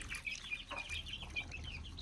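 Chickens and small chicks in a pet house setup giving soft clucks and high, thin peeping calls, steady and close at low volume with a faint background hum.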